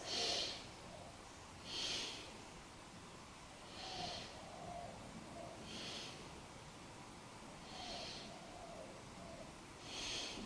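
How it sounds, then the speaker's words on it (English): Three slow, deep yoga breaths, each a soft inhale and exhale spaced about two seconds apart, faint and close against a quiet room. "let's take three big breaths"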